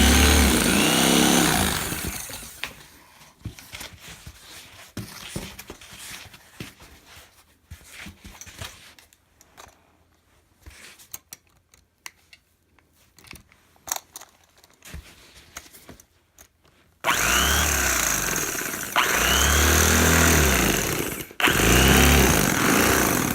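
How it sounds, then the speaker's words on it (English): A power tool makes plunge cuts in a replacement case for a Leblanc paperclip contrabass clarinet: a loud, close, harsh buzzing at the start, a long quieter gap with scattered knocks, then two more loud sustained bursts of cutting. "Some of these plunge cuts are a little challenging."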